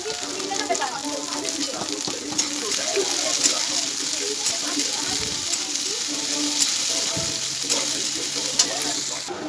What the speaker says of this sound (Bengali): তো আমি বিমসটা আর গাজরটা ভেজে নিলাম।